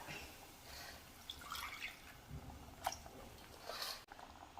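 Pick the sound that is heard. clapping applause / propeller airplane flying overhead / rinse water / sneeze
rinse water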